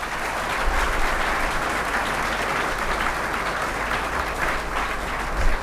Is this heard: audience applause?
yes